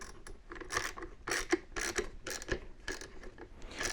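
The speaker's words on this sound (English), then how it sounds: "This is a ratchet." A ratchet snugs down a fastener while a TAPCO SAW grip is installed on an AK rifle, giving quick runs of close, crisp clicks in uneven bursts with no talking.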